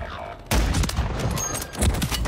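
A sniper shot hits the player in Warzone, a battle royale video game, as a sudden loud crack followed by a dense burst of sharp impacts and rattling gunfire close by.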